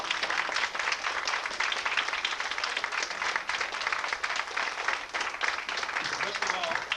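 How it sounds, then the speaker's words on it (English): Warm audience applause for a theater group fills the space, a dense, steady wash of many hands clapping at close range with murmured voices mixed underneath. "We'd like to give a very warm applause to them,"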